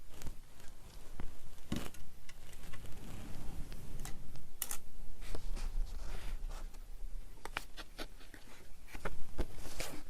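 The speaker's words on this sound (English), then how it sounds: "So now we're going to score this page on at 1/2." A tool scores a paper page half an inch in from the edge, giving close scratchy strokes and small taps in an irregular rhythm over a dense, noisy background.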